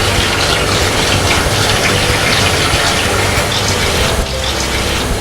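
Water gushes steadily from a tap to rinse a pan after cooking meatballs, a loud, constant rushing spray that holds for several seconds.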